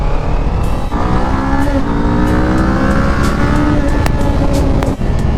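A Qjmotor Race 450 motorcycle engine accelerates hard, a loud, close, continuous roar whose pitch climbs steadily through the revs, with brief dips between gears.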